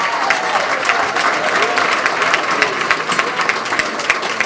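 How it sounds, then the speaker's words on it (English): At a political community event, a dense crowd applauds steadily throughout for a lieutenant governor candidate, the clapping loud and sustained with a faint murmur of voices underneath. "Let's give a round of applause for our next Lieutenant Governor, Sheila Oliver."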